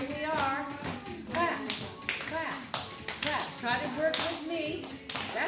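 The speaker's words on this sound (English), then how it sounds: "Let's get the high clap." Group hand clapping in a Zumba Gold fitness class, steady rhythmic claps under an instructor's continuous talk and background music.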